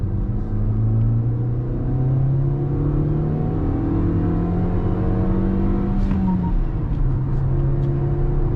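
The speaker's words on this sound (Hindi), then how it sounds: "मारुति के K सीरीज इंजन की आवाज़ बहुत है।" A Maruti Victoris CNG with a K-series petrol engine runs steadily, its engine and exhaust giving a continuous low rumble with rising and falling harmonic tones as it revs under load. The drone sits loud and close, with no voices over it.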